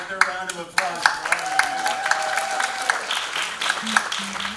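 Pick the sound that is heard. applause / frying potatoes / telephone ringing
applause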